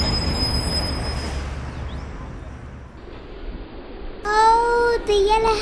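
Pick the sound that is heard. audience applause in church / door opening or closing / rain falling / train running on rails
train running on rails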